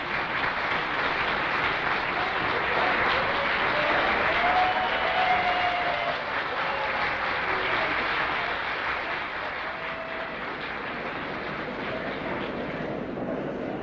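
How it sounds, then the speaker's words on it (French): A large audience keeps up long, sustained applause at a 1965 event in Mexico. The dense, even clapping fills the whole stretch, heard from a slight distance with a faint background murmur. "Les applaudissements n'en finissaient pas."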